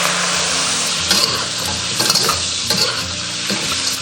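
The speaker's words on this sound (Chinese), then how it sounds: "我们下入这个料头，还有这些香料， 把这些煸炒一下" Aromatics and spices stir-fried in an iron wok while a Northeastern-style iron-pot stew is being prepared: a steady close sizzle with repeated scraping stirs of the spatula against the metal, and no voices.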